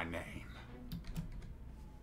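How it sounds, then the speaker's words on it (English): Rapid keystrokes patter on a computer keyboard during a Persona 5 Royal play session, an uneven burst of clicks up close under a faint voice and game sound. "For some reason, my keyboard isn't working."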